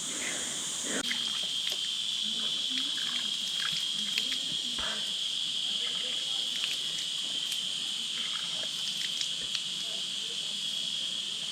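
Water flows steadily along a hill trail on Sathuragiri, a constant hissing rush with insects shrilling high above it and faint scattered knocks and movement throughout.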